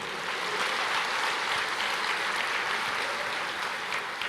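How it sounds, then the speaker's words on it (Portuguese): Church congregation applauding during a sermon, a continuous even wash of many hands clapping together with no voices over it, sustained at a steady level throughout. "pode aplaudir, aplauda o Senhor"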